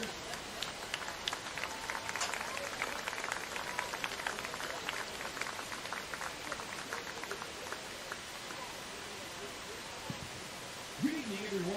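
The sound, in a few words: stadium crowd applauding the senior football players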